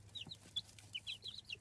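Two-week-old chicks cheep in quick, bright little bursts, a handful of short peeps scattered over a second and a half, quiet and close against a low steady hum with no voices.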